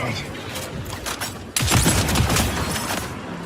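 Gunfire in a multiplayer shooter video game, with a burst of sharp shotgun blasts that hits suddenly and loudly halfway through, over game noise, with a person talking.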